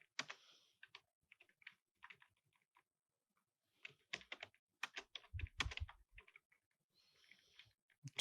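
Keys clack on a computer keyboard in quiet, close bursts of rapid taps, with a pause partway through and then a busier run of strokes.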